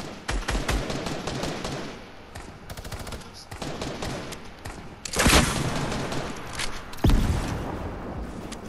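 Enemy gunfire in a video game, rapid volleys of shots with repeated bursts and two heavier loud impacts partway through, close and continuous.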